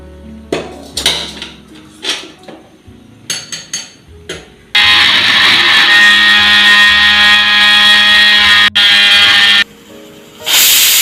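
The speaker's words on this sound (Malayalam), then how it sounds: "ഒരു 6 വിസിൽ വരണം." A pressure cooker whistles while cooking chickpeas for a Kerala-style kadala curry: a loud, sustained, high steady hiss-whistle runs for several seconds, is cut briefly, then resumes, after quieter intermittent clattering at the start.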